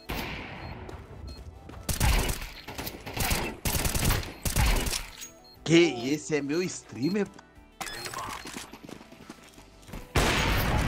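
Bursts of gunfire from a shooting video game come in several sharp clusters, loud and close, mixed with horse hooves and a whinny, while players talk over the action.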